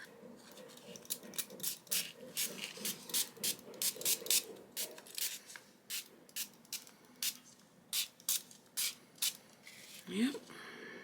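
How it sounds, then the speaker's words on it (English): A water spray bottle used with ink on junk-journal index cards gives a run of short, crisp spritzes in an uneven rhythm, about a dozen close bursts over quiet background. "And my water spray bottle"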